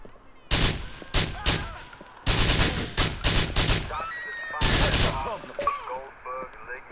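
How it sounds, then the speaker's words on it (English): Rapid bursts of gunfire in Grand Theft Auto IV crack out in several loud volleys with short gaps between them, mixed with game sounds and a voice. "why would you run towards the sound of the gun?"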